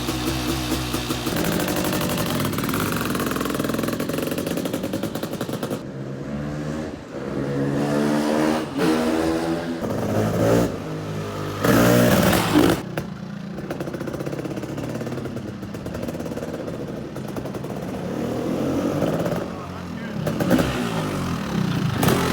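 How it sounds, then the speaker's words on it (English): A sidecar rally dirt bike engine running, a loud, rough mid-pitched drone that rises and falls with revving, with voices talking over it part of the time. "this is his sidecar rally dirt bike."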